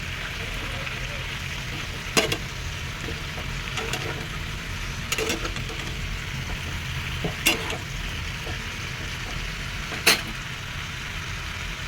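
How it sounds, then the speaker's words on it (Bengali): Pumpkin greens chorchori fries in a pan with a steady sizzle, broken by a few sharp scrapes and knocks as it is stirred. "এবার আমি ঢাকনা তুলে একটু নাড়াচাড়া করে আবার ঢেকে দেবো।"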